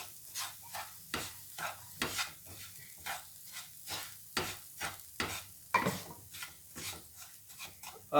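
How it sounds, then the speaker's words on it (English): Roasted coconut and suji stirred together for gujiya stuffing, a run of soft, repeated scraping and rubbing strokes in a quiet, steady rhythm, close and alone with no talk. "Mix all the ingredients."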